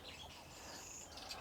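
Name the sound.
birds chirping outside near greenhouse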